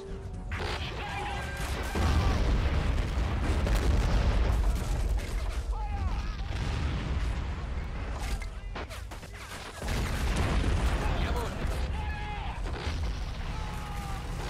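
Mortar fire in the WWII strategy game Men of War 2 at Seelow Heights, heavy booming blasts and crashing impacts over a constant rumbling battle din, with a voice speaking over it.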